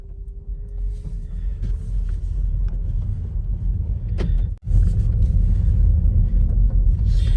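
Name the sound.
MG4 electric car driving off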